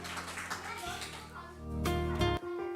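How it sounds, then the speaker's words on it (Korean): A congregation applauds during a church Sunday worship service, a dense continuous patter of clapping hands heard at moderate distance, with voices and a sustained musical tone underneath. "우리 하나님께 감사와 영광의 박수 올려드리겠습니다"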